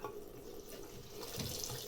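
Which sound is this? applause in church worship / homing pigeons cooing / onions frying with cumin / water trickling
water trickling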